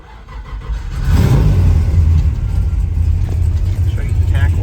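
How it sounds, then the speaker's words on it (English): A 1966 Chevrolet Chevelle 300 Deluxe with a 427 V8 idles, then rises into a steady, loud engine drone that holds through the rest, a deep low rumble with some interior noise on top. "we're going to take this 1966 Chevrolet Chevelle for a test drive and see how it does"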